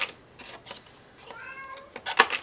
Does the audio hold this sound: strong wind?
no